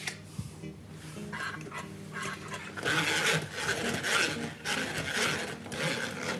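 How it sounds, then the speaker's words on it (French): Cooked ratte potatoes are cranked through a hand-turned food mill, producing a close, rhythmic rasping and grinding of metal blade against pulp that grows louder midway. "Et là, on les passe au moulin à légumes ancestral."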